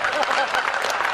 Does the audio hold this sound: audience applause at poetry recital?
yes